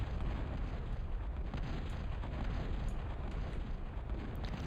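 A Millennium battleship in the Total Annihilation video game shells relentlessly, producing a dense, continuous rumble of overlapping heavy booms that stays loud throughout.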